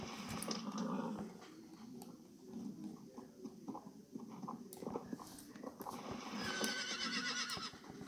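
A wild Jorvik horse in a video game neighs and whinnies with a clip-clop of hooves, set against a steady game ambience at moderate loudness.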